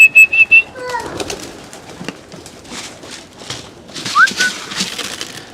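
Racing pigeons in a loft give a few loud bursts of cooing at the start, then quieter scattered coos, wing rustles and a short whistle continue in the background.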